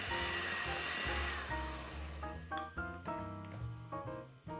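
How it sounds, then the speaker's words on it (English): A hand mixer whirs steadily through cream cheese frosting made with heavy cream, its hum shifting and wavering as the beaters work through the mixture, close and continuous with no talking. "mix everything with a hand mixer until you get a smooth,"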